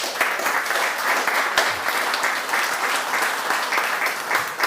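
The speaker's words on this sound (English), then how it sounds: "So I just want to give them a round of applause for being here today as well." Audience applause at a community forum in Anaheim, sustained even clapping from a sizeable crowd throughout, fairly loud and close, with no voices over it.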